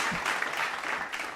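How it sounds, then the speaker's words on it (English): Studio audience applause for a guest on a talk show, a steady wash of many hands clapping with no gaps, fairly distant and even throughout the short burst. "let's have a good clap for Brandon"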